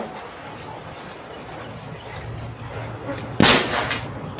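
An air rifle with an MK barrel fires a slug, a single sharp crack near the end that leaves a short ringing echo over a faint outdoor background.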